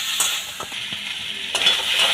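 Spices sizzle in a pan with a splash of water while a utensil scrapes and stirs in short strokes. The steady frying hiss swells briefly near the end, and no voices are heard.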